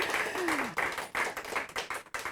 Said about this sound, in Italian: fateci un applauso